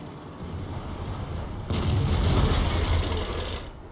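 A tank gun booms once partway through a tank video game battle, a heavy blast that rises sharply out of a steady rumble of engine noise and rolls on for a moment with no speech.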